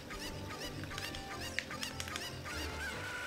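A chicken in the video game Zelda: Ocarina of Time Master Quest squawks and clucks repeatedly over game music, with no talking.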